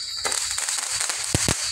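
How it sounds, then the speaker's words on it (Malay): Sharp firecracker pops go off in an irregular string, a few louder bangs standing out over a steady background hiss. "Jangan main mercun."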